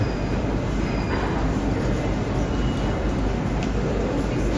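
A subway train in Uzbekistan rumbles steadily and loudly, with metallic wheel squeal and rattling throughout, heard from close range.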